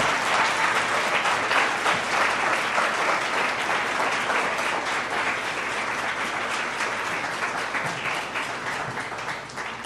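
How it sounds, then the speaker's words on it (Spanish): Sustained, vigorous applause from a church congregation fills the space for nearly ten seconds, a dense, loud wash of many hands that holds steady and eases only slightly at the end. "Si tú lo crees, dale un aplauso, pero con todas tus fuerzas."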